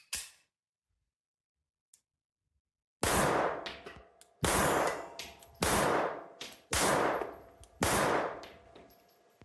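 A Czech vz.50 pistol in fair condition fires Czech surplus .32 ammunition. After a couple of faint clicks, five loud, sharp shots crack close by at roughly one-second intervals, each trailing off in a short echo.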